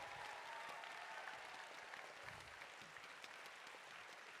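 Audience applause at a robotics world championship, steady sustained clapping from a large crowd in a big hall, even and continuous throughout.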